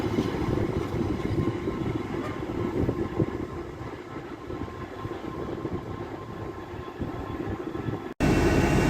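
A train passes through Lincoln Central station with a continuous, heavy rumble and rolling noise that holds steady throughout, then cuts off abruptly near the end; no voices.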